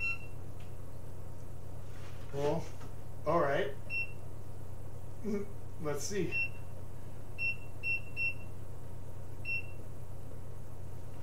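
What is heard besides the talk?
oven timer beeping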